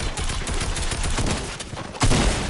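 Dense gunfire from a shooter game, a loud continuous crackle of shots for a couple of seconds with a sharper burst near the end.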